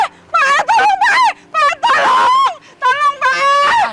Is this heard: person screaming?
yes